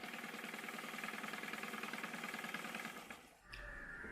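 A sewing machine stitches the shoulder seams of a Masha dress, a steady fast mechanical whir that runs for about three seconds before slowing, pausing briefly and starting again.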